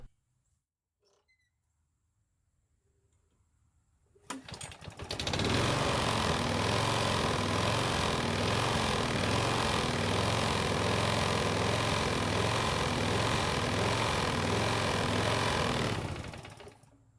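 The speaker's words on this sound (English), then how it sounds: "Yes, the engine will start each time you prime it" A primed Toro lawn mower engine sputters briefly, then roars into a loud, steady drone that runs for about ten seconds before cutting off.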